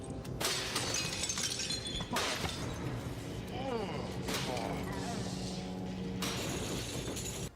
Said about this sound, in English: by destroying glass cases with specimens in them